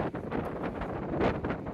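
Gusty wind on the Black Sea coast in Istanbul buffets the microphone in a brief burst of rough, rumbling noise, rising and falling in uneven pulses with no voices.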